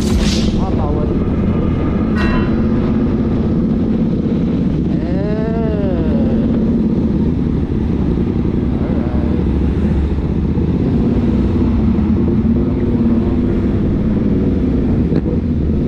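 A Voge 525 ACX motorcycle engine, still being broken in, drones steadily under constant wind rush, with a rising whine in passing and a muffled voice breaking in at moments.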